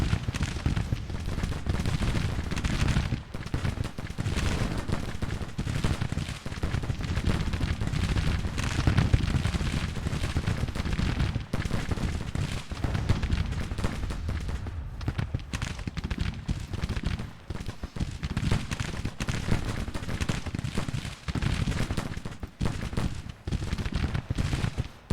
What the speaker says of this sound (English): Got those sharps firing into them now.